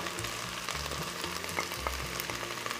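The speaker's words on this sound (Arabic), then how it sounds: "واضيف المعجون لان المعجون لازم ينحمس" Tomato paste fries in a pan alongside okra for an Iraqi okra stew, a steady close sizzle with soft stirring scrapes, no voices.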